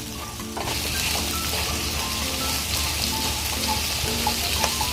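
Sliced shallots and bird's eye chillies sizzle in hot oil in a pan, a steady, close, bright frying hiss with faint stirring clicks and no talking.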